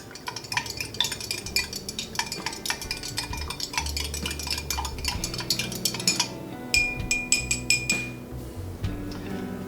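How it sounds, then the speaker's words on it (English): A spoon clinks and scrapes against a container while stirring homemade hand sanitizer, producing a run of close, bright metallic taps and rattles, with a sharper series of rhythmic clinks toward the end. "I'm just going to take a spoon and just stir it all around"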